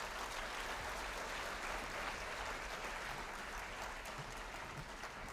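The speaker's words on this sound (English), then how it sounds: "I think we should give a big round of applause to all the 6 students." Sustained round of applause from an audience at a technical session, honoring a group of six students; steady, dense clapping with no pauses, moderately distant and filling the room throughout.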